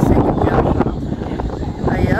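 Strong wind gusts buffet the microphone outdoors among swaying banana and coconut trees, a loud continuous rumbling roar with no pauses, with a voice speaking over it.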